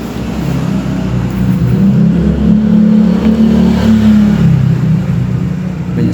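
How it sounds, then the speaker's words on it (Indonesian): Motorbike engines hum and rev steadily along a road in Banyuwangi, a continuous mid-pitched drone swelling as riders pass close by, with no voices over it. "Banyak sepeda motor."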